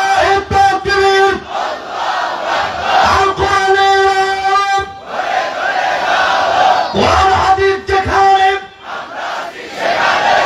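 Large crowd at a live Islamic religious gathering in Dohar, Dhaka, shouting Allahu Akbar in loud unison bursts answering a takbir call, repeated several times with short pauses between.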